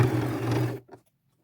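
Sewing machine running a straight stitch to attach fringe over the raw edge of a thrifted jacket, a steady close mechanical whir lasting under a second before it stops, followed by a brief clunk.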